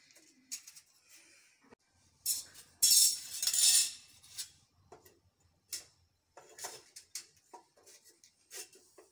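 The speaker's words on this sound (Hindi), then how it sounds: "इस तरीके से हम अपनी कोर को डालेंगे इसके अंदर।" Thin steel core laminations slid one by one into a wound transformer bobbin, giving a string of light metallic ticks and clinks with a louder scraping rush partway through, all close up with no talk.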